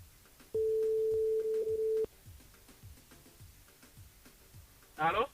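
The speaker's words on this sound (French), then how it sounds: "Ça sonne." A telephone ringback tone sounds on an outgoing call placed from a live radio broadcast, one long steady beep lasting about a second and a half over faint background, followed by quiet and a short burst of voice at the end.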